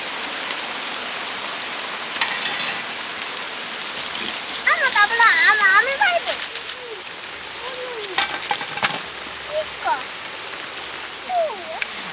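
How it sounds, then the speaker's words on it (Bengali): Raw potato snack pieces deep-frying in hot oil, giving a steady rain-like sizzle and crackle throughout, with a voice speaking over the middle and brief clatter of handling near the cook. "বাকিগুলো একই রকমভাবে ভেজে নেব"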